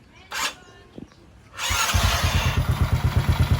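Starter motor cranking a Honda XRM 110/125 motorcycle after a starter chain repair, a short whir and clicks, then the engine catching into a rapid, steady near putter.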